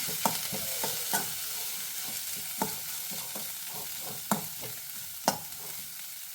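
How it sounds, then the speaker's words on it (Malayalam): A spoon works through mango ginger pickle mixed with pickle powder, irregular scraping and clanking strokes against the pan over a faint sizzle, close but fairly quiet. "അച്ചാർ പൗഡർ, നന്നായി ഇളക്കി കൊടുക്കുക"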